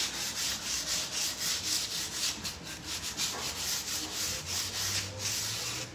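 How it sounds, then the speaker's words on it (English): Sandpaper rubbed by hand along the edges of damaged, chippy painted wooden bedroom furniture, a steady back-and-forth scratching in quick regular strokes, close and fairly soft. "So I'm just going to quickly sand along those two edges."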